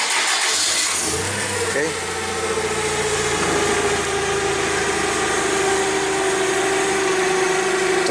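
A forklift engine cranks and catches, then settles into a steady mid-pitched idle, loud and close, with a brief word spoken at the start.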